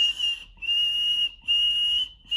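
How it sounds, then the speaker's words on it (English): A thin, high-pitched whistle made through a gap in the front teeth sounds in three sustained bursts separated by short pauses, close and clear with no talking. "I can whistle out of my gap."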